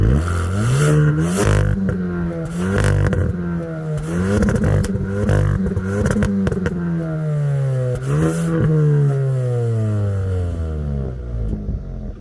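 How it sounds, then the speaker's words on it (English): A Hyundai i20 N hot hatch engine revs repeatedly, rising and falling in pitch with loud, throaty bursts before a long sustained climb and drop near the end. "For a standard car, it sounds really, really nice too. Have a listen."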